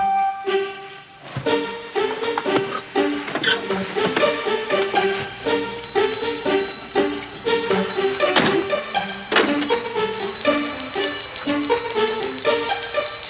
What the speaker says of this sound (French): Tu sais que mon père aime pas ça quand tu sonnes la cloche?